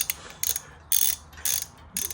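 A torque wrench tightening bolts on a rally car gives four or five short, bright ratcheting bursts in quick succession, close and crisp, with brief pauses between pulls.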